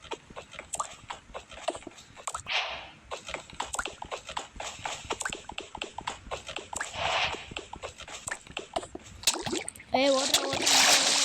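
Splashing and swimming in water in the Minecraft survival game, a busy stream of splashy bursts and clicks that runs the whole time, with a louder watery rush at the end.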